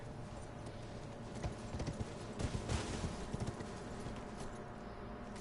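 Horse galloping in Elden Ring, a steady run of muffled hoof clip-clops over a dense game ambience, the hoofbeats thickening and growing louder through the middle before easing back.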